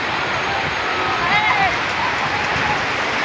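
Ocean waves at a beach in Real, Quezon during a summer outing give a steady, close, hissing wash of surf that stays even and continuous throughout.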